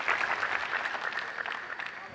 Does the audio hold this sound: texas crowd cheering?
yes